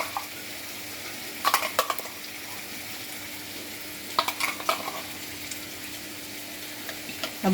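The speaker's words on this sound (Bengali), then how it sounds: "ভালো করে আমি মিশিয়ে নিচ্ছি আর এদিকে পেঁয়াজটা ভাজা হচ্ছে" An onion, ginger, garlic and green chilli paste fries in a pan, a steady low sizzle broken by two short clusters of scraping stir strokes, with no talking.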